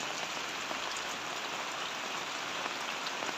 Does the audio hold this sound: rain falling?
yes